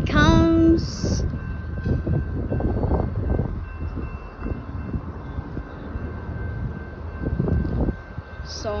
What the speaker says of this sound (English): Slowing down train.